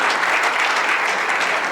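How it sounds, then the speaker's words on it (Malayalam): Loud, dense applause from a large audience at a film title announcement for the producers, a continuous roar of clapping hands with no pauses and no talk over it. "ചെറുപ്പക്കാർ വെച്ച് പടം ചെയ്യാൻ ധൈര്യപ്പെടുത്ത പ്രൊഡ്യൂസർമാർക്ക് രണ്ടുപേർക്കും വലിയൊരു കയ്യടി കൊടുക്കണം"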